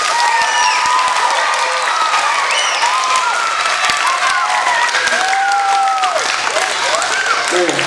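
A school crowd at an elementary assembly with the state governor cheers and applauds steadily, a dense wash of claps and children's shrill whoops and yells that holds for the whole stretch.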